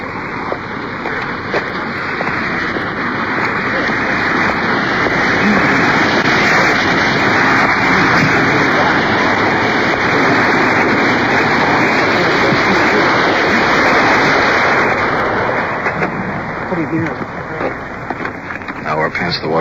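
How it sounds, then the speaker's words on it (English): Water pours steadily over the top of a waterfall beside a narrow rocky beach under a bridge, a loud, dense, continuous rush that fills the whole stretch without pause. "Probably can hear the water pouring over the top"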